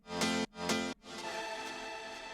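Two layered pianos, processed with OTT compression, low-cut EQ and Kickstart sidechain, in a country-style EDM track: two short pumping chord stabs followed by a longer sustained chord.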